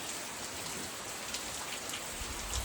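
Heavy morning rain pours on a farm in a dense, steady hiss that does not let up, with no voices.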